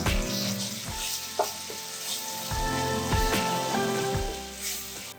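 Ginger and green chilli paste sizzling and sautéing in a hot pan, a loud continuous fry with repeated scraping stirs and clattering spatula knocks at irregular intervals.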